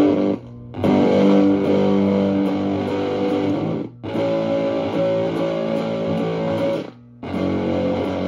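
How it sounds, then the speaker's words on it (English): Heavily fuzzed electric guitar chords ring out in sustained blasts, each cut off abruptly into near silence by a gate before the next one. "Nice, real kind of gated fuzz."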